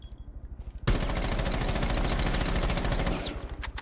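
Sustained automatic rifle fire in Rainbow Six Siege, a rapid, evenly spaced burst of loud close shots lasting a few seconds, followed by a couple of trailing single shots.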